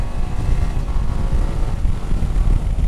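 A 2023 BMW 750 GS motorcycle holds a steady, loud engine and exhaust drone with low rumble and wind noise, unbroken for the whole stretch.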